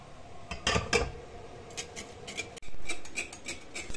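A whisk or spoon clinks and scrapes against a bowl set over a simmering water bath while carbonara egg cream is stirred, giving irregular metallic taps and scraping close by, with no talking.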